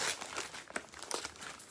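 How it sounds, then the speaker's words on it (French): Gift wrap paper crinkling and rustling as presents are wrapped, in close, uneven bursts of crackle over a short stretch. "Je suis en train d'emballer les cadeaux"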